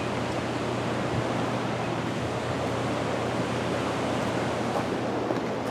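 Floodwater from heavy rain rushes steadily past a temporary dam at the Ozark Mill, a loud, continuous roaring wash without pauses, heard close by with no voices.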